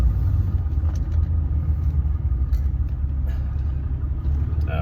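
Constant low rumble of car traffic passing on a road, loud and steady with engine drone and faint ticks, no voices heard.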